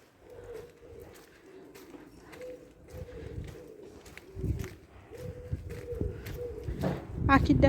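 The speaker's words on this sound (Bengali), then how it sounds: "পাখির ডাক শুনতে পাচ্ছেন?" Pigeons coo in a town in Germany, with several low, soft, repeated calls at a moderate distance, mixed with occasional thumps and background noise.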